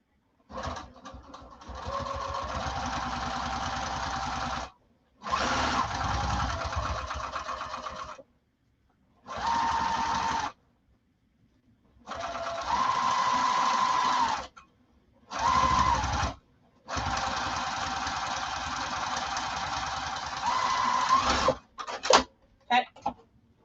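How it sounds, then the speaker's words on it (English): Sewing machine stitching fabric straight across, running in a series of loud, close bursts of steady whirring separated by sharp silent pauses, ending with a few short clicks. "I'm just going to stitch this straight across"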